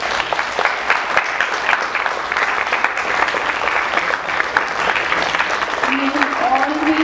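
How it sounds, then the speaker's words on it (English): Audience applause for a speaker called up at a school art and craft motivational session for students; sustained, dense clapping from a crowded room, fairly loud, with voices rising under it near the end. "please clap for him"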